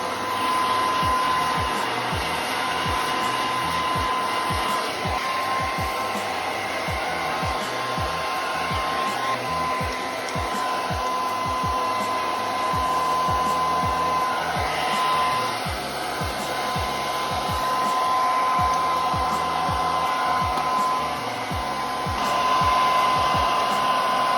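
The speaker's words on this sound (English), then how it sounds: "So let's get the hair dryer out and let's start styling." A hair dryer blows with a steady high-pitched whine and airy roar, close and loud, with soft brushing and rustling through hair underneath.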